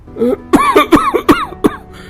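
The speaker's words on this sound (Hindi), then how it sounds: "अरे इस खांसी ने तो नाक में दम कर दिया भाई" A run of harsh, close coughs in quick succession, several sharp bursts with a raspy, throaty edge, no talking.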